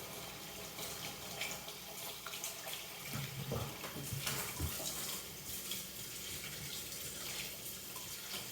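Tap water running steadily into a sink while a butchered turkey is rinsed, a close, constant splashing stream with a few louder clatters of handling in the middle.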